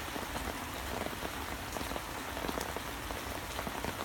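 Steady rain falls outdoors at an old pond during a fishing trip, with dense patter and scattered sharper drops hitting a nearby surface, continuous and fairly close, and no voices.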